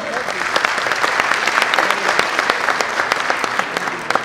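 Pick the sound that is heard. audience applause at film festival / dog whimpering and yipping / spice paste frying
audience applause at film festival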